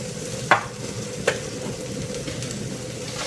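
Fish Madras risotto is stirred in a sizzling pan, with a steady frying hiss and two sharp scrapes of the spoon against the pan.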